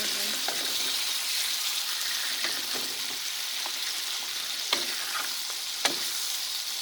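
Shrimp with raw garlic fry in butter in a pan, a steady bright sizzle up close, broken by a few sharp crackles and pops, with no talking.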